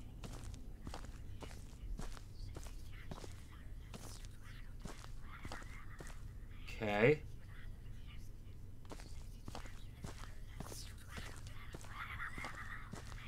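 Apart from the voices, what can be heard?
footsteps in Paranormal HK video game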